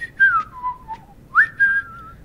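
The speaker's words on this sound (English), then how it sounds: "Oh, he's whistling for me." A character in The 39 Steps video game whistles a clear, close tune in two gliding phrases separated by a short pause, with no talk over it.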